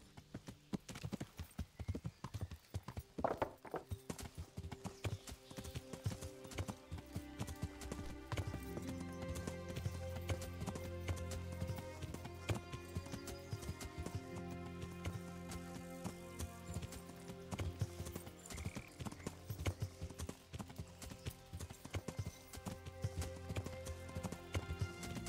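Horse hooves clip-clop steadily in the video game Kingdom Come on Xbox, a continuous rhythmic trot with an occasional whinny, heard over game music and ambience.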